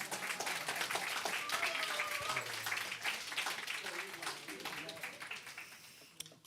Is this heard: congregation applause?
yes